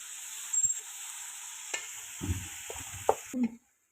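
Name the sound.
frying minced beef qeema in a pan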